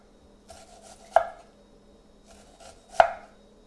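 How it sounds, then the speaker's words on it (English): An onion sliced lengthwise into very thin slices for Polish goulash, two sharp, close knife chops onto a cutting board about two seconds apart, with faint slicing and rustling before each. "slice the onion lengthwise into very tiny slices"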